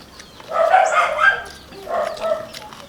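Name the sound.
dogs barking at the neighbor's house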